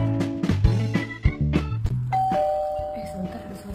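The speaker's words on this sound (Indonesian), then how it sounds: "Sebentar ada suara bel pintu." A home doorbell rings loud and close, playing a melodic run of chime tones that rings out and fades.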